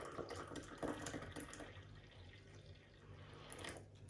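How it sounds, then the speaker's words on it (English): Hot boiled water poured over cinnamon for tea, a close, gentle trickle and splash that is steadiest at first and then tapers off, with no talking. "Then I'm going to put the hot water"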